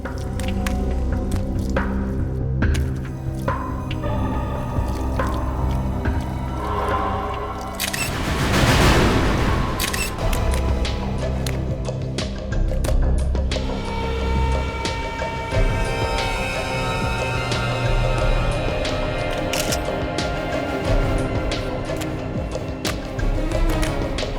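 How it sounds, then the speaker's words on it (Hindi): Water runs from a bathroom basin tap that was left open, a continuous close splashing with squishy drips throughout and no speech. "ये देखो, किसी ने बाथ बेसिन का नली खुला छोड़ रखा है। मैं भी तो सोचूं कि पानी की आवाज आ कहां से रही है।"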